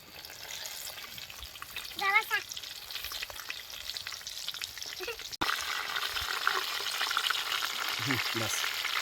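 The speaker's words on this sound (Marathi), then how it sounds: "मिरच्या आपल्याला तळायच्यात" Green chillies for vada pav frying in oil on a village wood-fired stove, a steady sizzle throughout with brief voices in the background.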